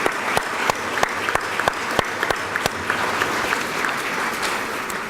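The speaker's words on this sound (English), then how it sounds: "I think they deserve a round of applause too" A banquet audience at the Better Business Bureau Eclipse Awards claps for the food staff, a steady crowd applause with a few sharp, louder individual claps standing out through it, holding at an even level throughout.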